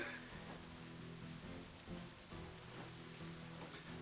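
Steady rainfall in the Black Desert Online game world, a constant dense patter on surfaces at low level, with a faint droning background tone running throughout.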